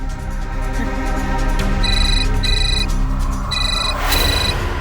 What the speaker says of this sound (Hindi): अशोक जी, अपनी वाइफ की मोबाइल पे फोन लगाइए।